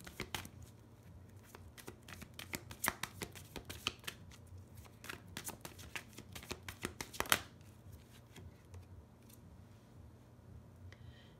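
Tarot cards are shuffled by hand in a series of quick, crisp riffles and snaps, close and fairly quiet, ending with a sharper burst before the sound settles into stillness.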